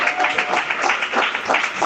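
A congregation applauds during an evening sermon in a church in Samambaia Sul, a steady wash of many hands clapping together at moderate volume, with no break across the short stretch.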